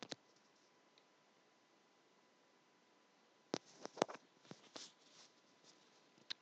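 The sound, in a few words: computer mouse clicking Continue button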